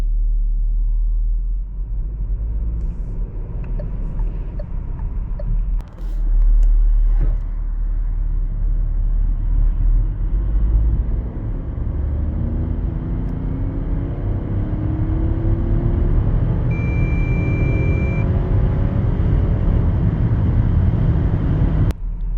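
A Renault Espace E-Tech full hybrid 200 accelerating hard from a standstill to 100 km/h gives a loud interior rumble with a rising engine tone that climbs steadily for the full run, and a short chime sounds near the end.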